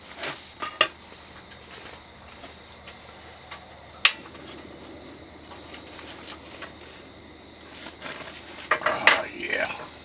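Food raked off a plate into a new pan on a stove, with a few sharp clinks of utensil on dishware, one loud clack near the middle and a busier scraping, clattering patch toward the end over quiet room noise.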